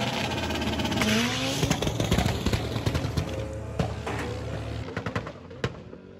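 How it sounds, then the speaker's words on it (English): A VW Golf launching down a drag strip at Santa Pod with plenty of wheel spin: loud engine roar and rising revs, tyre scrabble and sharp crackling pops near the end, no voices. "Plenty of wheel spin"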